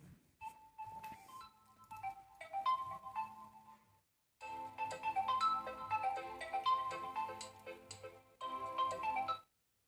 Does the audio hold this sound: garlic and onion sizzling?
no